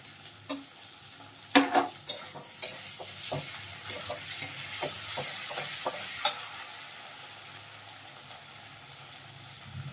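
Chopped tomatoes fry in a pan while being stirred, a steady low sizzle punctuated by a series of scraping, clattering strokes that fade into quieter frying, no voices.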